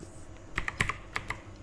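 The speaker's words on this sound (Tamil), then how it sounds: "எல்ஐசின்னு டைப் பண்ணிக்கிறேங்க." A few quick keystrokes on a computer keyboard, close and fairly quiet, tapped in a short irregular burst against near silence.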